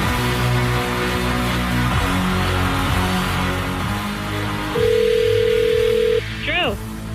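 Telephone touch-tone dialing on a radio show, a run of steady beeping tones over background music, ending with a rising electronic sweep.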